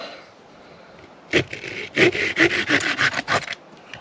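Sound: hand saw cutting wood

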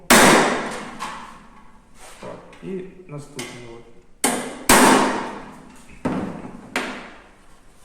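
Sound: hammer striking center punch on metal

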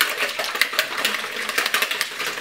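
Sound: whisking eggs for homemade eggnog

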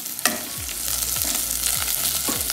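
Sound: sautéing ginger and bay leaves in a pan

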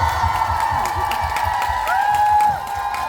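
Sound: audience applause and cheering at cinema

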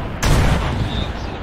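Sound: artillery fire in the video game Arma 3

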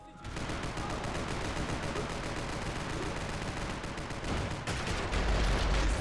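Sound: gunfire in the video game Max Payne 3 multiplayer

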